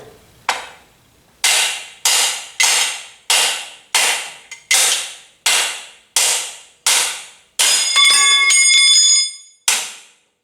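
Loud metallic hammer blows ring out one after another at a steady pace, each clang decaying quickly, with a longer ringing strike near the end.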